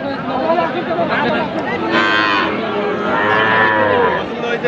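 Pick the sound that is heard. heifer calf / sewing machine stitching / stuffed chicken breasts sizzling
heifer calf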